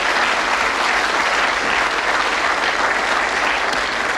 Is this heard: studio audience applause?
yes